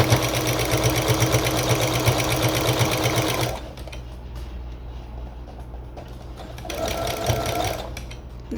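Home sewing machine with a walking foot stitching along the edge of fabric for a halter top, a steady loud mechanical whir that stops partway, then briefly resumes more softly near the end.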